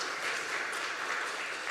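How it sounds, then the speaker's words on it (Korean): A church congregation applauds during a Sunday worship service, a soft, steady patter of many hands clapping at some distance, with no talking over it. "박수로 한번 격려했으면 좋겠습니다."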